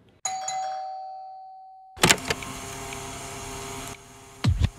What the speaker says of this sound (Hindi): मेरे घर की डोरबेल बजती है।